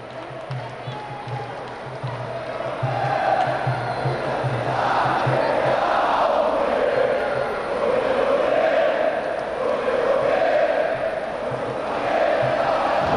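Volleyball arena crowd at a women's African championship final between Al Ahly and Carthage, a loud sustained roar of cheering and chanting that swells after a few seconds, with a rhythmic drum-like pulse underneath early on.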